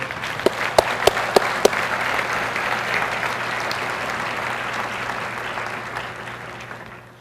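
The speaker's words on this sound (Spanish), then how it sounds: "Denle un aplauso a Él, por favor." A church congregation applauds steadily for several seconds during a sermon, a few sharp claps standing out at the start before the clapping slowly fades.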